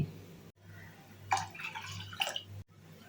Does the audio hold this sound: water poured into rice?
yes